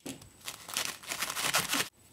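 Kitchen shears snipping artichoke leaves, a run of crisp, crackly cuts and rustles close up, then sudden quiet.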